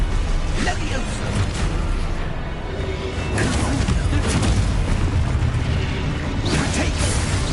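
Hogwarts Legacy spell combat with Confringo and other blasts: dense, loud, continuous rumbling impacts and whooshing bursts layered together, with sharper hits now and then and a voice in the mix.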